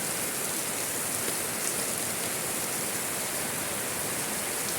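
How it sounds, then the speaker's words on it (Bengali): Steady, dense rain pours down during a sudden shower after hot weather, a continuous even hiss with no breaks, fairly soft and constant throughout. "এই গরম এই আবার বৃষ্টি শুরু হলো রে"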